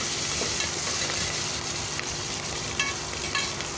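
Green chillies splutter and sizzle in hot oil in a pan for sundal rice, a close, steady frying crackle with small irregular pops scattered throughout.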